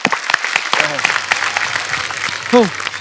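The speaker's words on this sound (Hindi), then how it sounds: "उसके लिए जोरदार तालियां बनती हैं" Applause from the studio audience of The Kapil Sharma Show, steady and moderately loud throughout, with a voice sounding briefly over the clapping.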